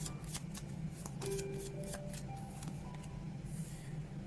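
A deck of angel oracle cards is shuffled in a soft, repeated riffle of papery flicks and slides over a low background hum, with no talking.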